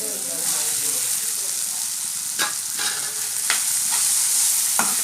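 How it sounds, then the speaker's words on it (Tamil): Bitter gourd stir-fried with softened tomato and salt in a hot pan gives a loud, steady sizzle, broken by a few sharp scraping strokes as the spatula turns the pieces. "நல்லா கிளறி விட்டுக்கலாம்"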